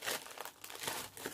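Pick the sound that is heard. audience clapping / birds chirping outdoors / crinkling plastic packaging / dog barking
crinkling plastic packaging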